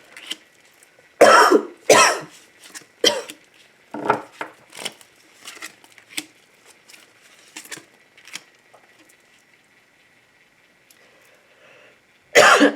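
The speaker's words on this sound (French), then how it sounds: "moi je suis désolée pour ma toux, c'est nerveux" Several sharp coughs and throat-clearing bursts, loud and close, scattered across the stretch with quiet gaps between them and a final cough at the end.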